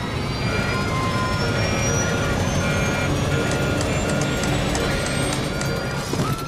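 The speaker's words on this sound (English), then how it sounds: "Alarms were sounding in the cockpit." A steady electronic cockpit warning tone on PSA Flight 1771 repeats over a constant loud roar of engine noise, with high beeping pulses toward the end.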